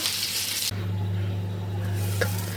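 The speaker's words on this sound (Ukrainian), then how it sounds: "Зараз закипає, я прикручу." Soup boils in a pot on a stove, a loud bubbling hiss that drops abruptly to a quieter, steady simmer over a low electrical hum.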